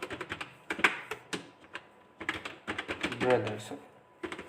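Quick clusters of computer keyboard keystrokes clatter close by in short bursts with brief gaps, and someone speaks softly between and over the typing.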